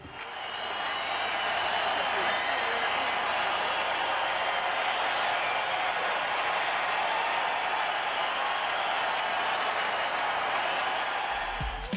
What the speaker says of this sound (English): in his final game against Chicago, he received a 4-minute standing ovation from the crowd